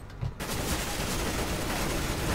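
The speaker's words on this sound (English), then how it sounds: "how did he shoot me through a wall?" Gunfire in the game CS:GO, a dense, sustained crackle of shots that starts abruptly and continues at steady loudness.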